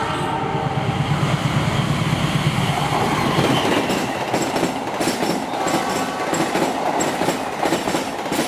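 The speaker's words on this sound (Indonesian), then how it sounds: "telah melintas dengan kecepatan tinggi kereta api Papandayan" The Papandayan passenger train races past at high speed, a loud, close roar of wheels and rattling cars with rhythmic clatter throughout.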